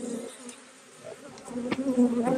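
Honeybees buzzing steadily around an opened beehive during a honey harvest, a continuous insect drone that swells louder toward the end, with no talk.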